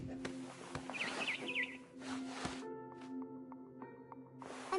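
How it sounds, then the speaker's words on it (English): A barn swallow chirps outside a window in the video game What Remains of Edith Finch, a short run of light tweets over quiet in-game ambience and scattered clicks. "Then I heard chirping outside my window. It was a barn swallow going back to her nest."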